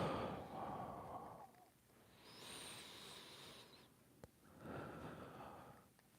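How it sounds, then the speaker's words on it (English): Slow, audible breaths during an easy full-body mobility routine: a long airy exhale, a pause, a hissing inhale, then another exhale, close to the microphone and not covered by talk. "Breathing."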